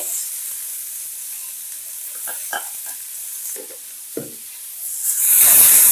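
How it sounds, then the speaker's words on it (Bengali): Tomato and ginger paste fries in a pan for a potato and chickpea dal curry, with a thin steady sizzle, a few soft stirring knocks, and a louder hiss swelling at the close. "এবার এটাকে এই টমেটো আর আদাটাকে একটু ভেজে নেব।"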